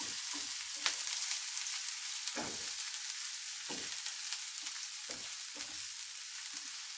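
A little onion sizzles and caramelizes in a frying pan with a constant bright hiss, broken by several soft scraping stirs of a utensil, close and alone.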